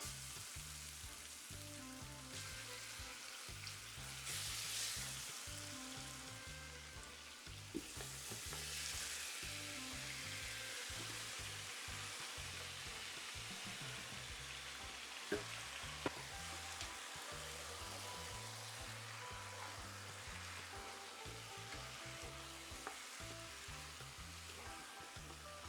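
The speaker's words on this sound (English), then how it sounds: "I'm gonna start adding the oxtail pieces." Oxtail pieces sizzle in caramelized sugar in a pot for a Jamaican oxtail stew, a loud, steady frying hiss running throughout with scattered pops and stirring clicks and no talk.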